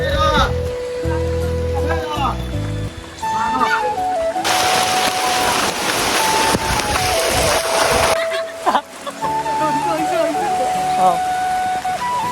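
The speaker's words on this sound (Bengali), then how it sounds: "বৃষ্টি নামতেছে" Rain falls and splashes in a steady wash that swells loudest in the middle. People talk over it, and a few louder drops and splatters cut through.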